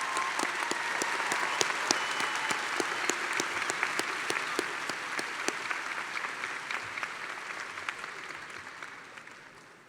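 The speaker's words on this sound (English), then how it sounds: "Please give a round of applause to the doctoral degree recipients." A university commencement audience at UWM applauds doctoral degree recipients, crisp individual claps standing out over steady crowd applause that tapers off toward the end.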